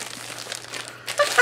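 Purple paper wrapping around a young adult fiction book being crinkled and pulled open, soft close rustling that builds into a few sharper crackles at the end.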